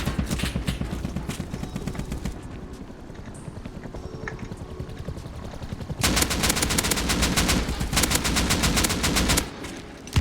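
Rapid automatic gunfire in the Rust video game crackles in dense bursts, loud and close, with a quieter stretch of scattered shots before a sustained heavy volley near the end, with no talk.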